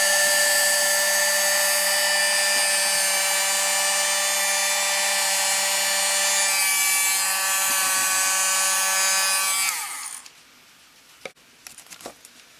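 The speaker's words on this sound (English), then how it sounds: "you're going to take the handheld vacuum from earlier" Handheld vacuum running steadily while sucking up loose static grass from model grass tufts, a loud continuous whine with harmonic hum for about ten seconds before cutting off, followed by a few faint clicks and handling noises.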